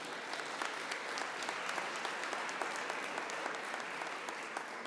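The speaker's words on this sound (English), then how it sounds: "yes, we can clap" An audience at a housing symposium breaks into applause, a dense, even patter of many hands clapping continuously for the whole stretch, with no voices rising above it.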